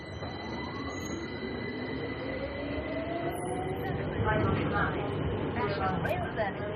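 Crowded metro train at a station platform, with rumbling, rising wheel and motor whine and a brief squeal, loud and close. A crowd murmurs in the background.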